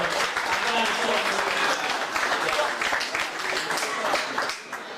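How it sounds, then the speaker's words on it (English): Audience at a high school sports awards ceremony applauds a wrestler, a continuous crowd of clapping hands filling the room, with a voice talking faintly over it. "clap it up, because he deserves it"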